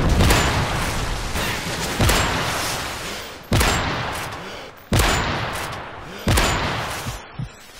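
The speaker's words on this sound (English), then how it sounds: "Friendly predator missile inbound." Repeated heavy booms from a Call of Duty style video game, including a predator missile explosion, arriving about every one and a half seconds, each a loud sharp blast with a long decaying rumble.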